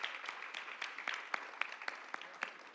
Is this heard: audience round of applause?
yes